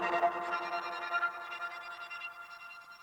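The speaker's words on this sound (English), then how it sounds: "you hear the echo, or you might hear the echo bouncing from side to side" Ping pong delay effect on a musical sound, a dense smeared wash of repeating echoes that slowly thins and fades, moderately loud with no voices.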